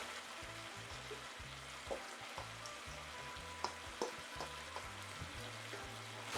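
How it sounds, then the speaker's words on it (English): Oxtail pieces frying in a pot, giving a quiet, continuous sizzle broken by a few faint pops and clinks, with no voices. "you want the oxtail pieces to fry up into the pot for 15 minutes"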